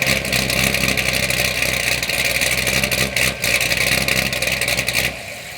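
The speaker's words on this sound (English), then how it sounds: "This car produces a beautiful sound and a chop from the cam and the exhaust setup that is just unmatched by any car that I've heard thus far." A Chevrolet C6 Corvette's engine and exhaust rumble loud and close with a choppy cam idle, lumpy pulsing punctuated by brief revs, then drop away abruptly at the end.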